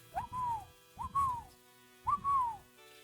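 Three clear whistled calls, each rising then gently falling, spaced about a second apart; a human voice imitating a bird's call, close and fairly quiet.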